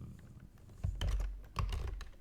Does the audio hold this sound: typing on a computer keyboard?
yes